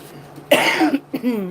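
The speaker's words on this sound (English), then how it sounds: "I've got the air conditioner on. It'll start me coughing." A person coughs twice near the microphone, a sharp hacking burst followed by a shorter one, loud and close in a quiet room.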